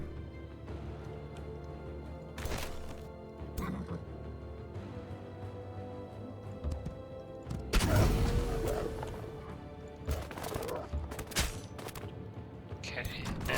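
Shooting in the fantasy strategy game Age of Wonders 4, a handful of sharp bursts and thuds scattered over background game music, with one heavier impact in the middle.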